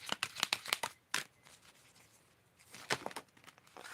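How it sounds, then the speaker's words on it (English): Cards are shuffled by hand up close, giving quick crisp riffling bursts in short clusters with a pause between, then a final flurry. The room is otherwise quiet. "I'm shuffling."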